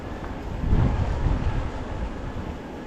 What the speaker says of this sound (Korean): 오늘 바람이 9에서 10 정도. 엄청난 바람.